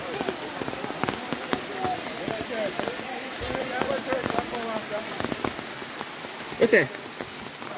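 Rain falls steadily outdoors with a dense patter of drops, while people talk and laugh over it throughout.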